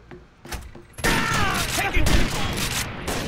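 Rapid bursts of gunfire in the tactical shooter game Rainbow Six Vegas 2, loud and continuous over a few seconds with sharp reports and thumps, voices briefly audible beneath.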